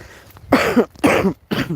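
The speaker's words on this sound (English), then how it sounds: "Excuse me, I still have a bad cough." Three hoarse coughs in a row from a man with a bad cough, close and fairly loud, each a harsh burst separated by short pauses.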